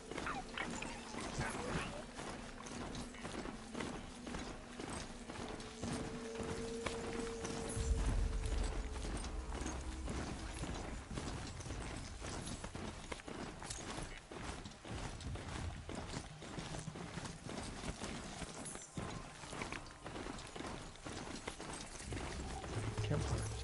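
A ridden machine mount gallops in Horizon Zero Dawn, a continuous rhythmic clatter of hooves mixed with mechanical whirring, moderately loud over the game's ambient background.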